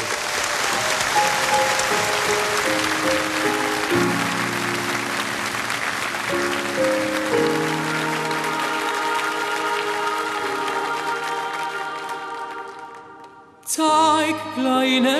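A large TV studio audience at a folk music show in Passau applauds to welcome a singer. Steady, full clapping runs under an opening instrumental melody and fades out near the end as the music changes.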